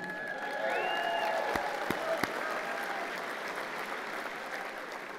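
A crowd at a Basketball Hall of Fame dinner claps and cheers steadily, with a few sharp claps standing out and a voice calling briefly over the applause.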